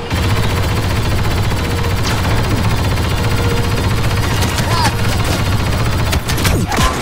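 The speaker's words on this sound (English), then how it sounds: "Sentry guns online!" Sentry guns in the Star Wars Battlefront 2 video game fire in a loud, continuous rapid stream of shots, with sharper blasts and impacts cutting through near the end.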